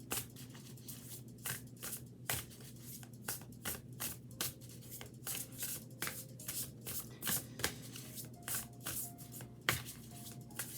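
Tarot cards are shuffled by hand in a quiet room, with a steady run of soft, crisp riffling slaps about once a second, close and fairly faint.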